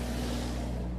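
Dave Matthews' tour bus idling, a steady low engine drone with a constant rumbling hum, close by and continuous without any break for the full second.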